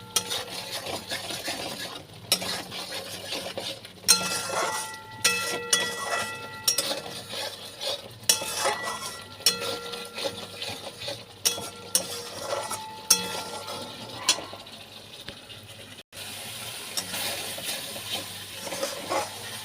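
Cumin powder, turmeric and salt stirred into spices in a hot pan: repeated scraping and clinking spoon strokes against metal over a soft sizzle, irregular rhythm, close and without talk.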